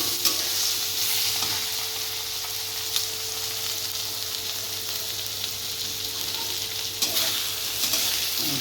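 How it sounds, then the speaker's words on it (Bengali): Eggplant pieces sizzle in hot oil in a pan, a continuous frying hiss with occasional stirring scrapes and clinks, close and alone without talk. "এবার দেখেন বেগুন ভাজছি"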